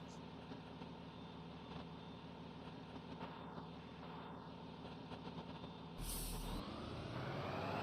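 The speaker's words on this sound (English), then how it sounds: "Wish that idle didn't clip like it does." An idling bus engine in a bus-driving video game drones steadily with a rough, clipped tone, followed near the end by a sharp hiss of air brakes.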